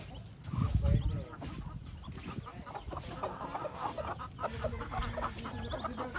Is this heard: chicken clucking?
yes